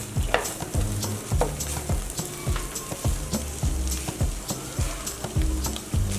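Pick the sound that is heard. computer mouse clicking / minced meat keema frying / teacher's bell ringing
minced meat keema frying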